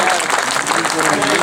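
Audience applause at a mushaira poetry gathering in Siwan, Bihar: a dense, steady wash of clapping from a large crowd, loud and continuous for its whole brief length.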